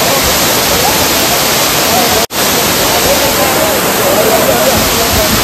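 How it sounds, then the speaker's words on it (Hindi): A waterfall in Skardu gives a loud, continuous roar of rushing water close by, a dense unbroken wash with a single brief dropout partway through. "बिल्कुल ऐसे पीछे वाटरफॉल"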